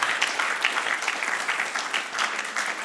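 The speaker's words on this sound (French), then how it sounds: "Acclame bien." Audience applause, dense steady clapping from a crowd at a religious gathering, even and sustained throughout with no pauses.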